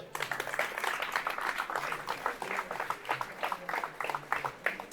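Audience applause in a congress-hall conference room, a modest crowd clapping unevenly with individual claps distinct and a faint murmur of voices underneath.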